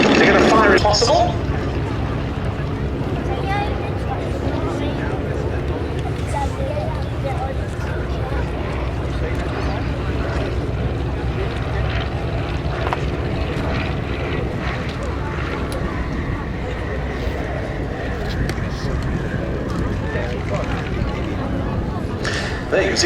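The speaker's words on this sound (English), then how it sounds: "There you can see the SE-5A in the lead, really angling off to turn as much as possible into wind." Replica WWI SE-5A propeller biplanes fly overhead at the Duxford Battle of Britain Airshow, a sustained droning engine note rising and falling as they pass, under almost continuous commentary.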